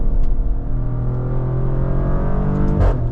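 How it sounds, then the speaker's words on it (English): Real exhaust note from a 2025 Maserati Grecale Trofeo with 523 horsepower, accelerating on a highway: a loud, steady engine drone that holds for several seconds, with a brief rise near the end. "That is all real exhaust sound from this Grecale Trofeo."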